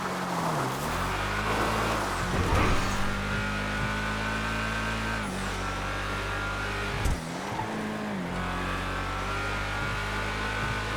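Declasse Sabre muscle car in GTA 5 driving off-road, its engine droning steadily and revving up and down over about eleven seconds, with a couple of brief jolts and no talk.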